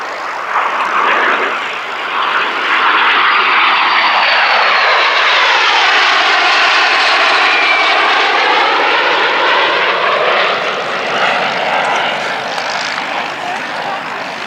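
A MiG-15 jet fighter roars past at an air show, its engine noise swelling loud and sweeping across the sky before easing off as it passes, with no voices over it.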